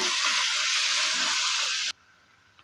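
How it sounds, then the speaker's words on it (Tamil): Chopped tomatoes sauté in a pan for tomato chutney with a steady, loud sizzling hiss for about two seconds, which then cuts off abruptly to near silence. "இப்போ இதை நல்லா வதக்கி எடுத்துக்கலாம்"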